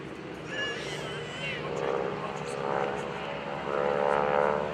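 A 5,500-pound propeller airplane's Pratt & Whitney air-cooled radial piston engine drones steadily, swelling louder toward the end, with a voice talking over the engine noise at an airshow.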